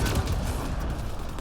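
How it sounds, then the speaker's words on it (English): Dense, continuous rumbling blast and crackle from an explosion in the sci-fi video game Mass Effect Andromeda, loud and sustained with rapid popping like gunfire throughout. "Ooh, okay. Big explosion."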